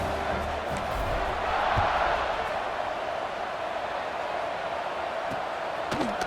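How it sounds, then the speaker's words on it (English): A stadium crowd in a college football video game buzzes with a steady, distant roar and murmur that holds level throughout, with faint thumps and no clear speech. "this crowd is buzzing after that last score"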